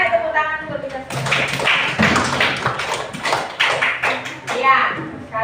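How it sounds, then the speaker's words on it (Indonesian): A class of young children claps together in a burst of quick tapping applause, close by and uneven, mixed with children's voices. "Ayo tepuk tangan untuk kita semua."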